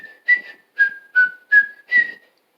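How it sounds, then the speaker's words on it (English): A person whistles five short, clear notes in an even rhythm, each one bending slightly in pitch, loud and close with silence between them. "this video right here shows you how to whistle"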